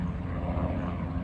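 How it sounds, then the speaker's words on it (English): A steady low engine drone of a helicopter passing, a continuous rumbling throb with no voices. "You hear the helicopter coming by."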